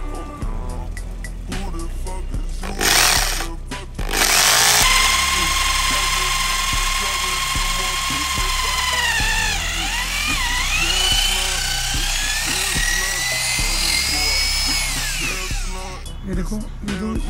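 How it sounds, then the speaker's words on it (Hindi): An electric drill whines steadily as it bores a hole in a Royal Enfield Interceptor 650 handlebar switch housing, a sustained high tone that shifts pitch as the bit bites, starting after brief handling noises and stopping near the end. "तो ये देखो मैंने निशान ले लिया और अब मैं ड्रिल करने लगा इसको"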